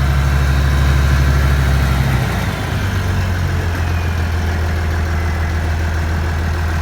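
A diesel engine of an International 986 tractor idles with a steady low rumble close by, a brief dip in pitch after two seconds before it settles back into an even drone.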